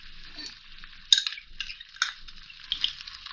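A spoon stirring chicken macaroni with ketchup in a pan: soft scraping and sizzling with a few sharp metallic clinks against the pan, close and clear, with no talking.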